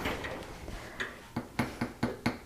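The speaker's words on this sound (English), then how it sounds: "just take it and just hammer just right around those edges" Metal edges hammered down around a rivet in a studio craft session: a string of sharp, evenly spaced hammer taps, close and fairly quiet, growing firmer toward the end, with no talk.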